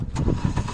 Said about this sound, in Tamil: இன்ஜின் கிராங்க் பண்ணோடனே இன்ஜின் ஆன் ஆகிக்கும்